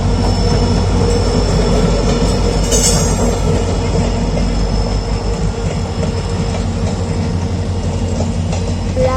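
The Lachit Express rolls along the track with a loud, continuous rumble, heavy low drone and rhythmic wheel clatter, heard up close from on board with no talking.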